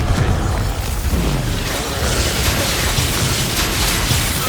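A Confringo fire spell in Hogwarts Legacy sets off a loud, roaring blast that rumbles and crackles on for several seconds, with no talking.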